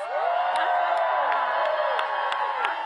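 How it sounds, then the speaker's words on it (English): A large rally crowd in Las Vegas cheers and applauds first-time voters in a steady roar of voices, with sharp whistles and whoops piercing through at intervals. "let's applaud our first-time voters"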